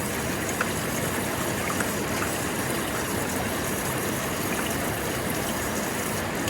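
Water rushes steadily through a sluice box, washing gold out of the riffles at a river prospecting gathering on the Yuba. A continuous, even hiss and gurgle runs throughout with no pauses.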